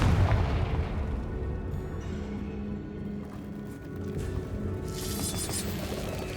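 A Confringo fire spell in Hogwarts Legacy bursts with a heavy low boom at the outset, then rolls into a long, rumbling tail of crackle and debris, with a brighter hiss rising near the end.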